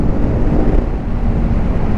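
Steady, loud wind buffets the microphone while riding a CFMOTO NK650 motorcycle, a dense low roar with no speech.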